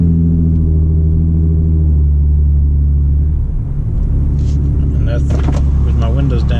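A Genesis car with its muffler and resonator deleted rumbles loudly with a heavy low drone as it accelerates, heard from inside with the windows down, with a brief lighter rattle near the end.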